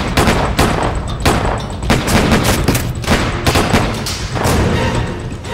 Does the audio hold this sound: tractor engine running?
no